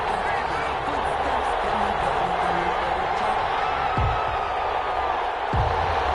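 Stadium crowd noise from a PS4 video game football broadcast of the Tampa Bay Buccaneers against the Atlanta Falcons, a steady broad roar of murmuring fans with a couple of low thumps, no clear speech.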